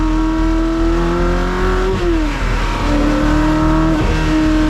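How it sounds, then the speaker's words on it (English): A Ferrari 360's loud, steady V8 engine, mounted behind the seats, rumbles and revs, pitch rising and dipping through a couple of throttle changes, heard close up from inside the car. "you got that visceral V8 right behind your head."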